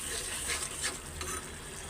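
Onions and garlic, cut into large pieces, fry in oil in a pan, giving a steady close sizzle with faint stirring over the whole stretch, no voices.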